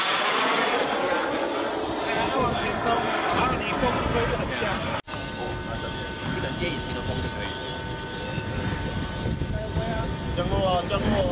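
A Skymaster A-10 model jet comes in to land in strong wind, its engine producing a loud, continuous roar that holds steady with a brief dropout midway, while people talk excitedly over it.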